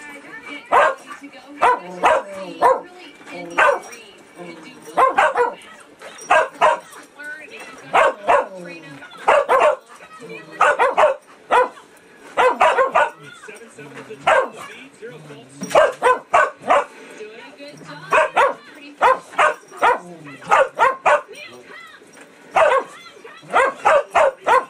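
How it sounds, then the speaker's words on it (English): A dog barks in quick bursts of sharp woofs and yips with short pauses between, close and clear, along with a few whimpers over a quiet room. "This is Joan Meyer and her dog, Neil."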